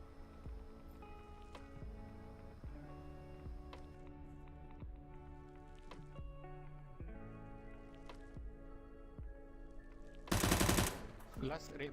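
CS:GO gunfire: sharp shots and short bursts crack repeatedly in irregular rhythm, with a dense louder burst near the end, while a voice talks quietly underneath.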